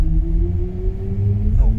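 Electric motor whine of a BMW iX40 in sport mode under acceleration, a steady tonal hum that rises slowly in pitch over a low rumbling road noise, close and continuous.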